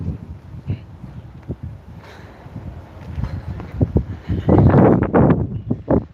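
Gusty wind buffets an outdoor microphone near Erzurumspor's training grounds as the team heads to the stadium, rising into loud, rough bursts toward the end with faint low rumbles underneath.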